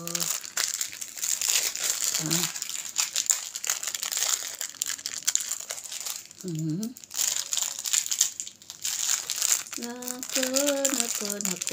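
Crinkly plastic souvenir packaging being opened up close, with steady crinkling and crushing throughout and someone speaking over it at intervals.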